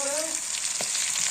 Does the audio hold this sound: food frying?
yes